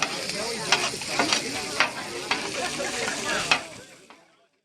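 A big pile of farm fresh eggs frying on an outdoor grill, with a steady close sizzle and rhythmic scraping stirs, fading out at the end.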